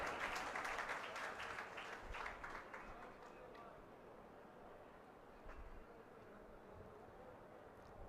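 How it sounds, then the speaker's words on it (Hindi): Loud crowd applause at a political rally welcoming Lok Sabha candidate Krishanpal Gurjar in Ballabhgarh, dense clapping that fades into a lower murmur. "एक बार जोरदार ताली बजाकर खुद का स्वागत।"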